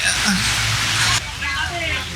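Light rain patters steadily across an outdoor RC crawler competition, a broad soft hiss that drops slightly partway through, with voices talking underneath.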